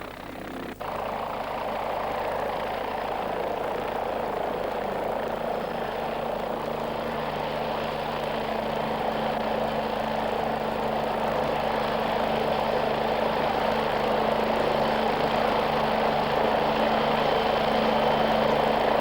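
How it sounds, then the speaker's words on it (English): A PAH-1 combat helicopter flies past with a steady, continuous engine and rotor drone that stays loud and even throughout, with no voices. "The helicopter then moves on to another position to tackle another tank."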